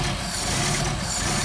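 A Mercedes 190SL engine on Solex carburetors idles steadily and cold after a week of sitting, a continuous close rumble with no talk over it.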